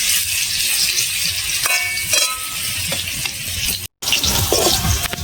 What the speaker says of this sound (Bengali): আলুটা লাল লাল করে মচমচে করে ভাজা হয়ে এসছে